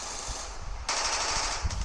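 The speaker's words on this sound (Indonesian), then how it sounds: "Suara tembakan, keras sekali." Rapid machine gun fire bursts out loud and sharp, with a second volley near the end, the shots standing alone with no talking.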